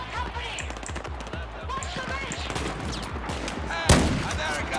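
Rapid automatic gunfire rattles in Battlefield 4 on the Nepal map, a close, loud, continuous burst of shots with a heavier blast near the end, mixed with other game sounds.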